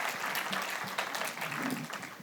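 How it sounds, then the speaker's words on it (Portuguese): An audience at a satellite industry congress applauds a speaker, a dense, even round of clapping sustained at moderate distance. "Uma salva de palmas para ele."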